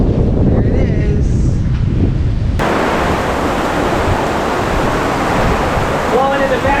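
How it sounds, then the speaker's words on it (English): Strong wind blowing hard across a sailboat crossing the Pacific in a passing front, a loud continuous roar buffeting the microphone with sea noise underneath, intensifying partway through. "I got so much wind coming in the back of the boat"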